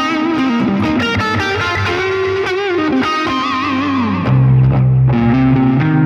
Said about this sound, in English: now let's add a little reverb